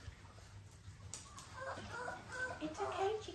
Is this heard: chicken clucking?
yes